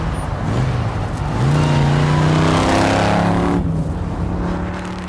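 A car with tuned, musical-sounding exhaust pipes, driven in Texas, hums and rises in pitch as it accelerates, a loud steady engine drone close by that eases off slightly at the end, with no talk.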